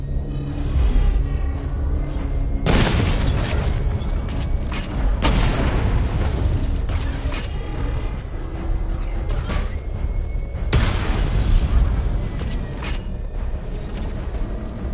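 Missile barrage explosions in Batman Arkham Knight: several heavy booming blasts in clusters, loud and rumbling, over a continuous mechanical whir and engine drone.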